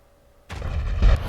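An orbital cannon on a multirole battleship in the Starbase video game fires once, a sudden heavy boom that rolls on as a rumbling blast with a brief swell near its end.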